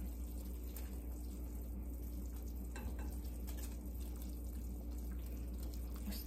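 A pot of soup bubbles steadily at a low, constant level, a soft continuous simmer with faint crackles throughout.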